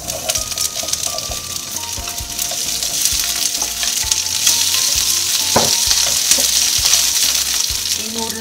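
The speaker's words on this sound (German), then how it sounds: "ich erhitze jetzt das Öl, dünste kurz den Knoblauch und dann kommt der Spargel rein" Green asparagus and garlic frying in hot oil in a pan, a constant close crackling sizzle with occasional stirring clinks, loud and steady throughout, no talking.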